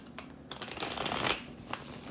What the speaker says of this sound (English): I know I keep saying I need to get a new deck of these, but sometimes they shuffle fine and sometimes